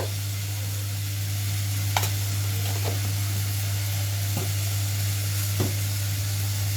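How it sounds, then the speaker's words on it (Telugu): Food fries in a pan with salt added, giving a steady, even sizzle throughout, with a few soft clicks of a utensil stirring against the pan and no talking. "ఇందులో కొంచెం మంచిగా ఫ్రై అవుతుంది"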